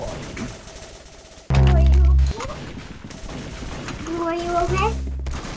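Roblox gunfire erupts in a loud, dense burst of rapid shots, with another volley near the end, set among game sounds and a voice talking.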